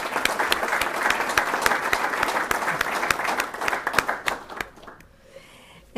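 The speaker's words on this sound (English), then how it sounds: "I'd like to give them a special round of applause." An audience at a welcome address gives a burst of dense, sustained applause from many hands, loud and close, that fades out over the last second.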